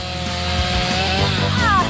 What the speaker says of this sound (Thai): งั้นฉันจะใช้เลื่อยตัดหนามให้หมด